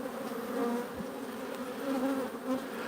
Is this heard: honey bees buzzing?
yes